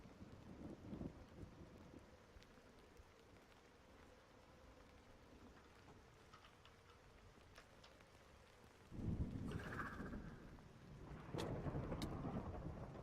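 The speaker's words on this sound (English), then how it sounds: "Come on, it's raining." Quiet steady rainfall with low rolling rumbles of thunder in Minecraft, then a louder surge of rain and rumbling near the end.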